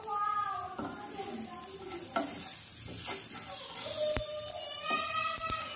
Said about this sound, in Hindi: जीरा और हींग हमारी अच्छे से भुन चुकी है।